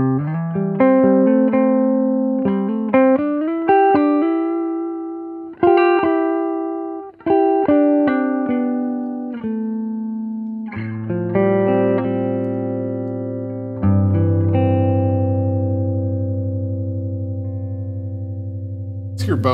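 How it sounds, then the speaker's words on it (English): Electric guitar played through the neck pickup, jazz-style: plucked notes and sustained chords ringing out in a steady, clean flow, with a lower bass-register chord swelling in the second half, played alone without talk. "So this is the neck pickup."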